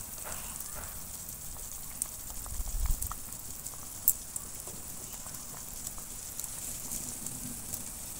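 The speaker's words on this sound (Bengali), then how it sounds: "এই যে তরকারিটা ফুটতে শুরু করেছে" Curry simmers and bubbles in a pot, a soft, steady crackle with scattered small pops and a few sharper ticks, quiet and close with no talking.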